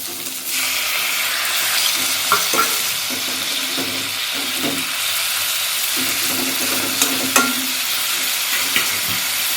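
Broccoli and potato with tomato cooking in a pan, a dense continuous sizzle with intermittent stirring clatter throughout.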